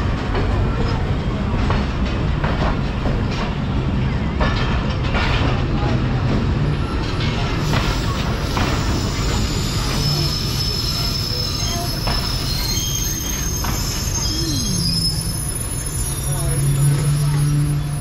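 The Sialkot Express pulling into Sambrial station, its wheels squealing loudly with a continuous rumbling rail roar and faint clicking as it slows, heard close with people talking in the background.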